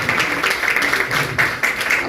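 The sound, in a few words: audience applause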